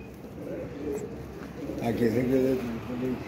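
A pigeon coos in soft repeated low phrases, close by, with a voice talking over and around it throughout.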